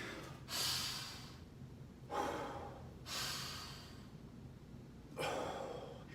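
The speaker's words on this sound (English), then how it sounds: "Breathe with me." Deep breathing during a martial arts conditioning workout, four slow, audible breaths, alternating inhales and exhales spaced about a second and a half apart, close and breathy with no talking.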